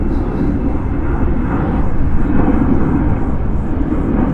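A fixed-wing airplane on the Berlin flight at Frankfurt Airport roars steadily for the whole stretch, a broad, loud, continuous engine rumble with no talk over it.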